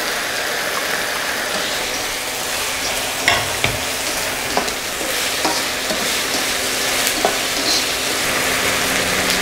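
Minced garlic and onion sauté loudly in a hot pan, a continuous close sizzle with occasional scrapes and clinks of a stirring utensil against the pan.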